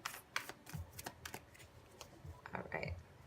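Tarot cards are shuffled in quick, soft riffling bursts, close and quiet, with a few separate flicks and taps between them.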